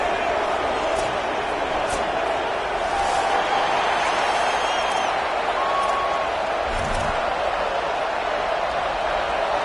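A home crowd fills Michigan Stadium in Ann Arbor before kickoff against Western Michigan, a steady loud roar of a large college football audience with scattered shouts and claps throughout, distant and continuous.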